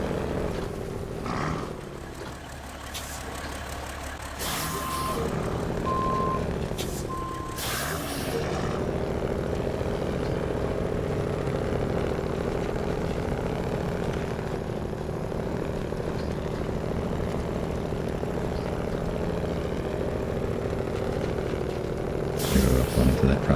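Kenworth truck in the SnowRunner video game, its engine droning steadily with air brake hisses and a short burst of reversing beeps early on, loud and continuous throughout.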